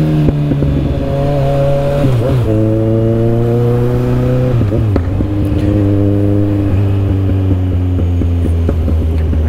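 A Kawasaki Z1000 motorcycle revs hard in rush-hour São Paulo traffic, loud and close, climbing through the gears in rising pulls with sharp shifts and drops in pitch between them, the engine note dominating the whole stretch.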